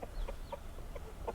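Chickens and young chicks cluck at feed on a tropical homestead after heavy rain, a handful of short, close clucks and chirps in an uneven rhythm over a quiet background.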